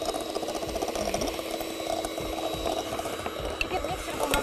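An electric mixer beats butter, sugar and eggs for sweet buns in a home kitchen, a steady whirring buzz close by with a soft rattle, while voices talk faintly underneath.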